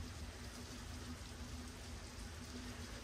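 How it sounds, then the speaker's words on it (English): Heavy rain pours down outside during a downpour, a dense, steady hiss with no breaks, fairly distant and even. "Can you guys hear that rain?"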